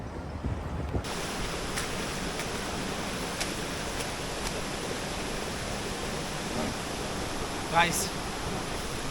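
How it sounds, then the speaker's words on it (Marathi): Flowing water rushes in a steady broadband wash, with a short rustle and a brief higher sound near the end. "मुझे यहाँ पे किसी रिवर का आवाज सुनाई दे रहा है"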